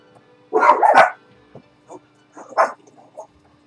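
Dog barking nearby: two loud overlapping barks, then a few softer yips and a final bark, in short irregular bursts with no talk.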